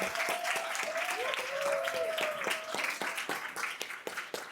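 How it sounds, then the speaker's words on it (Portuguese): An audience at a student panel during a summit applauds Robson, dense clapping with cheering voices and a whoop over it, thinning into scattered individual claps toward the end. "Uma salva de palmas Aê. para o Robson."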